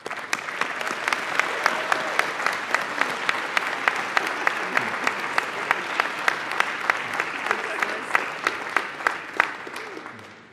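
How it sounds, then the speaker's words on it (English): A graduation ceremony audience at Bond University applauds steadily, a dense patter of many hands clapping with sharp individual claps standing out, holding strong throughout before easing off at the very end. "give them a bit of a wave, and give them almighty cheer"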